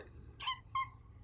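A pet cat named Boo Bear gives two short meows close by, one right after the other, in an otherwise quiet room.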